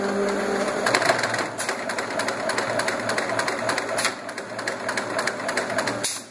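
Consew 7 class industrial sewing machine driven by an Efka motor, running in a steady close-up stitching rattle with rapid regular ticks throughout.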